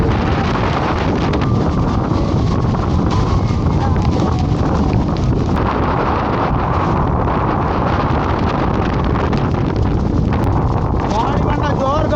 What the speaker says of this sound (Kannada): ಗಾಳಿ ಬಂದ ಜೋರು ಗಾಳಿ ಬರೋದುಂಟು.